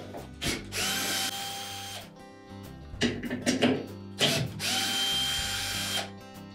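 A power drill unscrews fasteners from a Whirlpool washing machine during bearing replacement, running in loud sustained bursts separated by short pauses and ratcheting clicks, with no talk.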